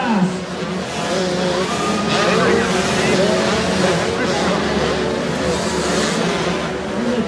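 Motocross bikes race, with a Kawasaki, number 143, making a pass; a loud, steady engine roar fills the whole stretch without a break.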